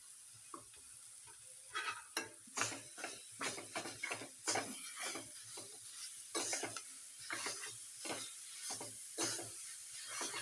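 Grated radish bhaji sizzles in a pan while a spoon stirs it in quick, repeated scraping strokes. The frying hiss is steady, with no talking.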